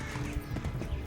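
Horse hooves clip-clop quickly and evenly in the Kingdom Come Deliverance video game, a brief run of close, moderately loud steps.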